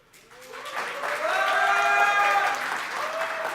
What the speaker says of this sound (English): Biggest applause for that so far.